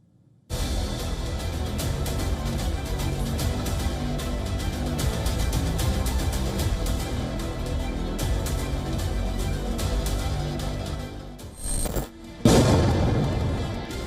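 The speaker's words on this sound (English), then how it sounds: "Thunderous explosions and the scream of missiles and drones are the permanent terror in Ukraine." Explosions from missile and drone strikes in Ukraine, a loud, sustained barrage of heavy booms and rumbling blasts. It breaks off briefly near the end before another powerful blast hits.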